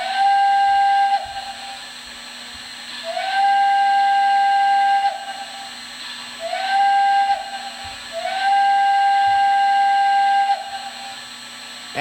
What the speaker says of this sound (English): First up is the whistle.